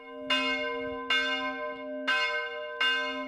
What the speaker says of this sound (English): The bells in the stout wooden tower vigorously peal, summoning the faithful.